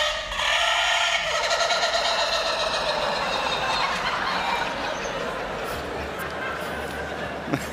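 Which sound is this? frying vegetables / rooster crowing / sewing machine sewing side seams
rooster crowing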